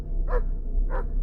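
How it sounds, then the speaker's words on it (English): A trained hunting dog barks twice at night, with two distinct, moderately loud barks spaced about half a second apart against a low steady hum. "the dog, who was a trained hunting dog, ran off into the night as its barking faded away"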